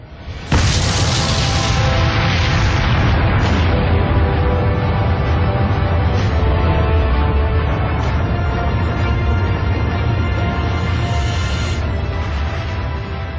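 An atomic bomb explosion following a countdown, heard as a sudden loud deep blast that swells into a sustained, roaring rumble lasting over ten seconds with no voices over it.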